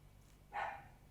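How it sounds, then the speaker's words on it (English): A single dog bark, short and fairly distant, heard once against a quiet indoor background. "Oh, my dog has just barked loudly."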